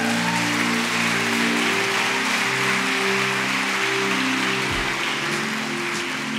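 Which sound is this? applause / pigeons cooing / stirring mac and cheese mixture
applause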